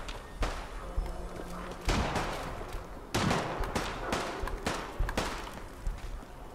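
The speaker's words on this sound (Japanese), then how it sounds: "あれ、今発砲音聞こえてる。" Gunshots in the survival-mode video game Fallout 4, several sharp reports spaced irregularly across the stretch, each a sudden broadband crack with a short tail over a low game ambience.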